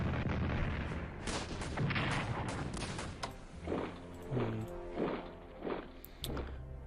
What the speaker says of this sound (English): Also draws out enemy artillery fire at least.